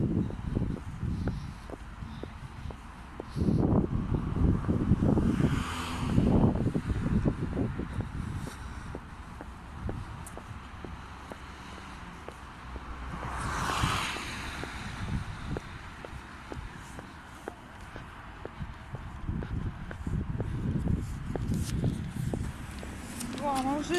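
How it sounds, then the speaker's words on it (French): Strong wind buffeting outdoors in gusty rushes and microphone blasts, with someone speaking French over it and footsteps now and then. "Il y a beaucoup de vent, il y a beaucoup de bruit"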